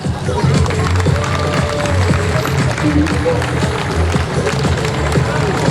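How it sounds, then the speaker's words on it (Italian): A crowd at an outdoor palio festival applauds for two competing teams, a sustained wash of clapping mixed with murmuring voices and some talk. "Signori e signori, un grande applauso per Somaville e Somprat."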